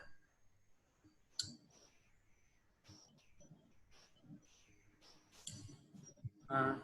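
Mouse clicks on an apply button while setting up deployment in Azure DevOps, sharp faint ticks scattered over a quiet background, with a few soft taps and a louder click near the end.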